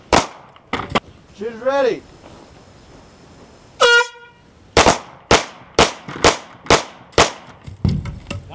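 Gunfire at an outdoor shooting demonstration: a whistle or horn sounds first, then a rapid string of sharp, loud shots about every half second. A voice speaks briefly between bursts.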